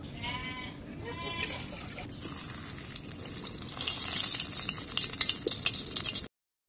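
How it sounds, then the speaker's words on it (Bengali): Turmeric- and chili-spiced eggplant slices go into hot oil on a small clay stove, and a strong sizzling hiss builds and grows louder over several seconds before stopping suddenly, close by, with no talking. "এখন হচ্ছে তেলের মধ্যে ভাজবো"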